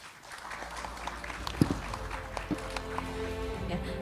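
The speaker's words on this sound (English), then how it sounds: "big applause to the panelists" Audience applause for panelists at a gala dinner during the 43rd ASEAN Summit in Jakarta, a moderate spread of clapping in a large hall with a few sharper knocks and faint tonal background sounds.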